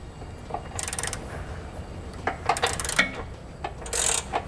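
A ratchet fitted with an 18mm socket and a small extension clicks in quick bursts while loosening nuts on a 2018 Jeep JL Wrangler Unlimited, close and fairly quiet, with no talking.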